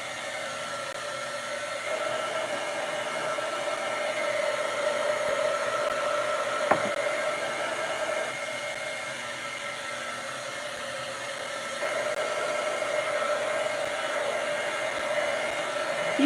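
A heat tool blows hot air onto a napkin-covered mug, a steady whooshing hiss that holds for the whole stretch with a brief click near the middle, with no talking.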